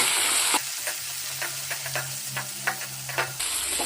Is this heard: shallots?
yes